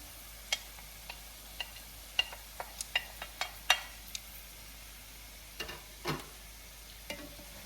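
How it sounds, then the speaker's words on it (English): Corned beef frying in a pan, a quiet steady sizzle with scattered sharp clicks and scrapes of a utensil stirring, close and without talk. "Now we're going to add the corned beef in."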